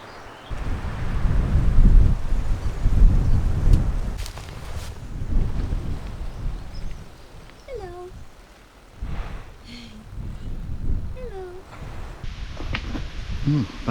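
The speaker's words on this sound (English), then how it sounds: "It is quite wet, very windy." Gusty, wet wind buffets the microphone in low, rumbling surges, with voices talking faintly underneath.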